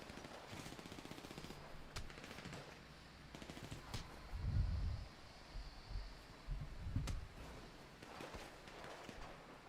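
Rapid gunfire crackles in a zombie video game, bursts of automatic shots with a couple of heavier booms, fairly faint and continuous throughout.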